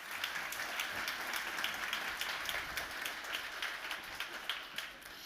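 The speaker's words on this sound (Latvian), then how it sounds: "Aplausi!" A conference audience gives steady applause for a housing association board chair taking the stage, a broad crackle of many hands clapping evenly from start to finish.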